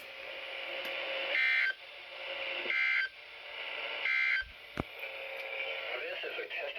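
A weekly test alert from weather radio station WXL88 plays as a steady tone broken by three bursts of beeping data tones, heard at low volume through a radio.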